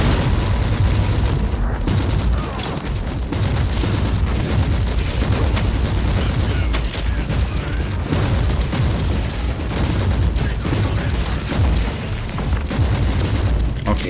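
Booming blasts and rapid gunfire fill a Warhammer 40,000: Inquisitor - Martyr battle, with grenade explosions thudding amid a dense, loud, continuous barrage of combat noise.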